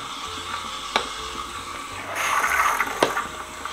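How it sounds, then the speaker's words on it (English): An espresso machine steam wand froths milk in a jug on a pump espresso machine. Faint gurgling and clicks come first, then a louder, steady hiss swells up partway through. "I just want to warm up that milk and froth that"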